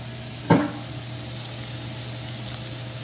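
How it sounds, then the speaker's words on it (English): A burger patty hits a hot pan with a sharp burst of sizzling, then settles into a steady frying crackle that continues over a low hum. "we'll put it right in the middle. Got a good sizzle."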